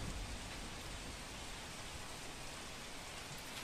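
Heavy rain comes down steadily over Valsad during monsoon flooding, a dense, even hiss of drops on surfaces with no pauses. It sounds faint and distant.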